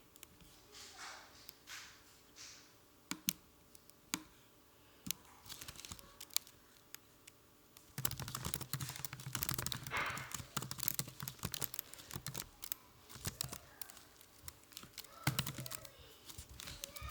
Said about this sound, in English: I'm doing a lot of typing and erasing.